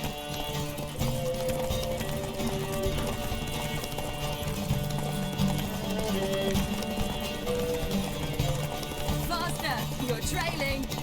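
The horse Roach gallops in The Witcher 3, its hoofbeats a rapid, steady clip-clop running under game music, with sparse voices in the background.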